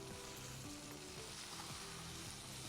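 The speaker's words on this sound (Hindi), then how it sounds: "इसको हमने बस भूनना है" Shinwari dumba karahi, mutton pieces being fried in a pan, sizzling loudly and steadily with bubbling oil, close up and continuous, with no voices.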